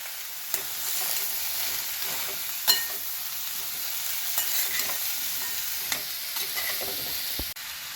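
Red pumpkin being stir-fried in a pan, a quiet steady sizzle with intermittent scrapes and knocks of a spatula against the pan at irregular intervals.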